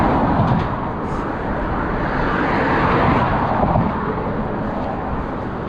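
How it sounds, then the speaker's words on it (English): Traffic speeding across the Foyle Bridge over Lough Foyle, a continuous broadband roar of tyres and engines close by, with wind buffeting the microphone and no voices. "Cars are fast."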